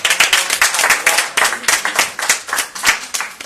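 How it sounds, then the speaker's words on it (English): An audience applauds the panelists at a Nigerian contemporary art discussion, a steady round of close, crisp clapping with rhythmic pulses lasting throughout, no voices over it. "So let's give all of our panelists another round of applause."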